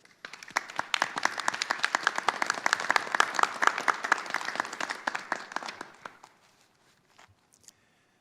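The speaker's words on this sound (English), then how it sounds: "join me in a round of applause for you all" Faculty and guests applaud a graduating dentistry class at a school of dentistry commencement, a dense, even burst of many hands clapping for about six seconds before it quickly dies away to near silence.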